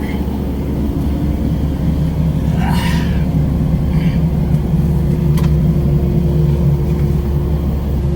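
Steady low rumble of a vehicle driving along at a homestead, a continuous engine and road drone with a brief passing whoosh partway through.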